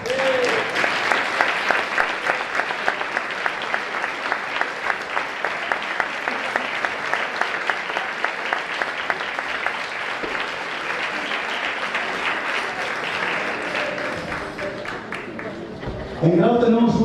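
Audience applause at an Asturian traditional Christmas music gathering: dense, steady clapping from a large crowd that sustains evenly for about sixteen seconds before breaking off near the end.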